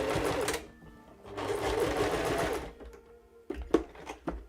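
A sewing machine stitches a backstitch, running in two sustained bursts of rapid mechanical whirring before finishing with a few short, sharp stitching spurts.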